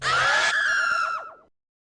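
A zombie monster in a Link video game lets out one loud, harsh scream that holds for about a second, then wavers and fades out abruptly, heard up close with no talking over it.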